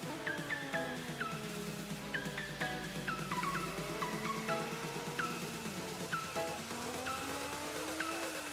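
Cars driving in Forza Horizon 4, a racing video game: engines rising and falling through repeated gear shifts, with tire squeal and a steady roar at close range throughout.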